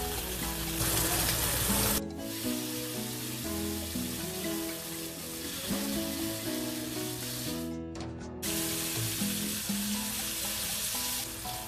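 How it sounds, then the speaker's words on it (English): Steady crackling sizzle of bacon frying in its own fat in a pan without oil, continuous and close, with a brief drop in the noise partway through. "I'm frying the bacon without oil."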